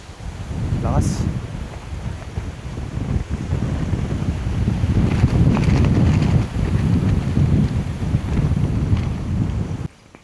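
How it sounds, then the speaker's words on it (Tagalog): Strong wind blows at a campsite during solo motorcycle camping, a sustained low rumbling roar of gusts battering the microphone throughout, loud and close. "Grabe ang hangin dito."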